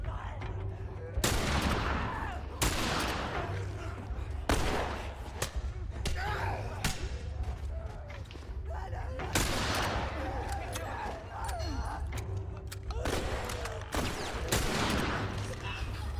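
Repeated bursts of gunfire from The Last of Us Part II, loud and close, with several sharp volleys spread across the stretch and a steady game rumble beneath them. Faint speech comes and goes in places.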